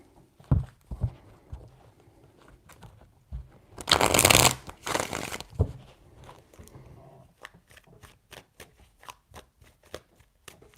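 Tarot cards being shuffled by hand: a loud riffling burst in the middle, with lighter taps and card slaps before and after, then a quick run of sharp flicks near the end.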